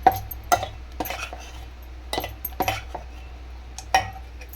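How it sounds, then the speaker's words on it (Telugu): A spoon clinks and scrapes against a bowl in several sharp, close bursts while dosa batter made from leftover rice, with salt and baking soda, is mixed, with quiet pauses between strokes and no talk. "బాగా మిక్స్ చేసేద్దాన్ని ఇది కూడా మిక్స్ చేసేస్తాను"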